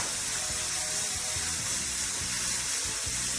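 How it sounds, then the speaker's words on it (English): Bacon frying in olive oil in a pan, a loud, dense and continuous sizzle and hiss with occasional spits and crackles, close and without talking. "I need a little help of the olive oil, a little bit olive oil, just to fry."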